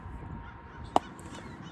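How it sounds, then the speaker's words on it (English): A single crow caws once, short and somewhat distant, over a steady outdoor background near sunset. "So if you hear the crows in the back."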